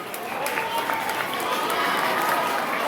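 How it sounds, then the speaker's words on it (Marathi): Students and guests at a school scholarship prize ceremony in Viman Nagar clap together, a dense, sustained round of applause mixed with crowd murmur. "जोरदार टाळ्या यासाठी झाल्या पाहिजेत."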